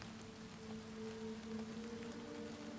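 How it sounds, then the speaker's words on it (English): Steady, faint rain ambience in the game Oblivion playing as an audio bug: a continuous soft hiss of rainfall with a low hum underneath and no other events. "I think I'm currently dealing with an audio bug where it still thinks I'm outside and it's raining"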